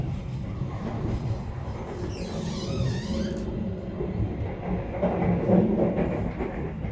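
Taksaka New Generation executive train running on rails from Yogyakarta to Jakarta, heard from inside the carriage as a continuous low rumble with faint rhythmic wheel clatter and a brief high squeal early on.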